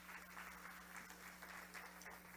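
A church congregation at a Portuguese-language Bible school class applauds steadily, a dense sustained wash of clapping with a low hum underneath, with no voices standing out.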